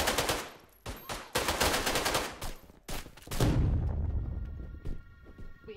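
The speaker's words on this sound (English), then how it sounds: "We have detonated the bomb." A bomb detonating in a Roblox video game: a loud burst of rapid crackling blasts, like heavy gunfire, breaking off briefly several times before a final rumbling boom that fades into quieter sparse pops.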